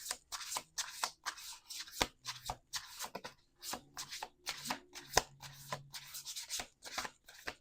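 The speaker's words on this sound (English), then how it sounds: "We're doing 2 more shuffles." A deck of tarot cards being shuffled by hand, repeated bursts of crisp riffling and sliding cards with short pauses and taps between, close and quiet.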